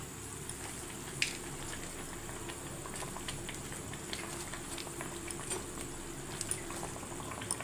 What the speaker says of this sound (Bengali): ঝোলটা আমার টকবক করে ফুটতে লেগে গেছে